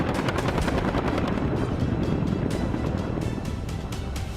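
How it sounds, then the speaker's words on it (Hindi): An AH-64E Apache attack helicopter produces a steady, faint rotor chop and broad engine roar throughout, with no voices. "दुनिया का सबसे आधुनिक अटैक हेलीकॉप्टर।"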